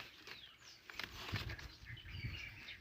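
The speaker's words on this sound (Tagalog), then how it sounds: "Naku, ang daming kinakain ng ibon." Birds flutter and chirp softly while feeding on ripe black fruit in a tree, with brief wing flaps and scattered tweets over a quiet outdoor background, no talking.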